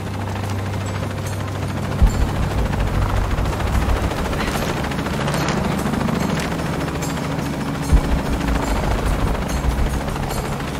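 Helicopter in the video game Shadow of the Tomb Raider, a steady low rotor drone running throughout with bursts of gunfire layered over it, loud and close.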